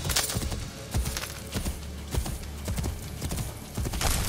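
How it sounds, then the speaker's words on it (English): Hooves thud in a quick, steady clip-clop rhythm under a loud, rumbling background, the beats close and distinct, from a horse galloping in Assassin's Creed: Brotherhood. "Faster to travel by horse."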